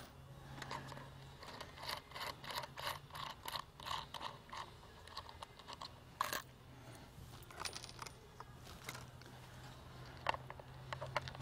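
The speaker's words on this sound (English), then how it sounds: "pull the nuts off" Metal nuts and washers come off the bolts of a trailer license plate light bracket with a run of small, close metallic clicks, rattles and ratchet-like ticks, one sharper clank near the middle, quiet and without voices.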